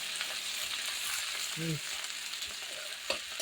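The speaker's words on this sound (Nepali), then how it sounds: "गोलभेडा हालिसकेपछि एकछिन चलाउने मजाले फ्याट्ट हुन्छ नि गाइज।" Tomatoes frying in a pan while being stirred, a steady close sizzle with occasional scraping of a utensil, no one talking.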